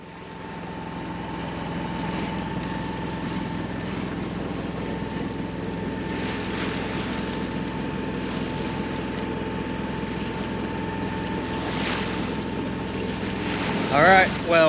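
A sailboat motors steadily off Bali, Indonesia, at about five knots with the current, with a constant engine drone and heavy wind buffeting the microphone, and a brief rattle at the close.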